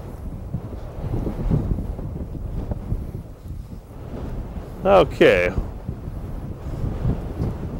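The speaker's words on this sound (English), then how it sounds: "It's a tad windy." Gusty wind buffets the microphone at an outdoor rifle range during tactical sniper shooting, a steady low rumble that swells and eases, with someone briefly speaking over it.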